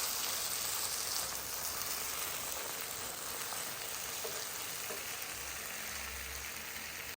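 Eggplant and tomato frying together in a pan for a Gilan-style Mirza Ghasemi, giving a steady, close, rain-like sizzle that runs unbroken from start to finish with no talking.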